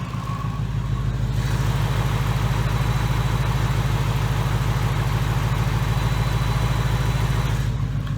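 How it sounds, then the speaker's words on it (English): Supercharged Coyote V8 in a 2018 Ford Mustang GT with a Whipple blower idles steadily, a loud, close, even low rumble throughout with no talking. "Car's running,"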